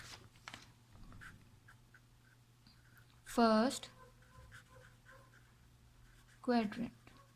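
A marker squeaks across a board during a Class 9 maths lesson, with two short squeaky bursts of strokes over a quiet room hum.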